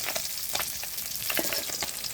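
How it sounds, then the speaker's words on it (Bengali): Fish sizzles and spits in a hot frying pan, a dense crackling hiss with short bursts of stirring or scraping, close and continuous. "দেখুন আমার মাছ ভাজা হয়ে গেছে"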